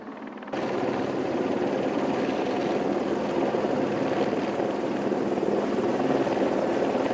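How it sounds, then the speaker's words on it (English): A helicopter's steady rotor roar starts abruptly and holds loud and constant, a dense broadband drone that stays close and unbroken throughout, during an anchor delivery at Elk Falls Bridge. "There's the helicopter."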